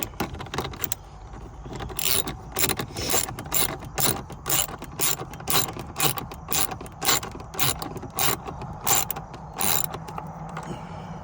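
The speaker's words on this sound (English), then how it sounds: "Once we get these bolts tightened back up" Ratchet tightening bolts on a Rugged Ridge radio mount in a Jeep Wrangler JL, repeated bursts of rapid metallic clicking in a regular rhythm, close and crisp, with no talking.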